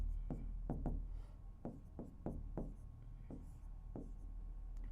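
Pen writing on paper while solving a 10th-grade maths practice paper, with a series of short scratchy strokes in an uneven rhythm, close and fairly quiet against a steady low hum.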